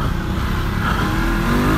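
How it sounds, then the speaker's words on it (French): BMW F 850 GS motorcycle sliding on a dirt track in enduro mode, its engine droning steadily with rumbling tire and wind noise, close and constant through the short moment. "hop, un petit dérapage"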